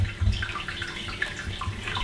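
Homebrewed rye IPA wort poured off a settled grain bed, a soft steady trickle of liquid with a few low splashy bumps, fairly quiet and close, with no voices.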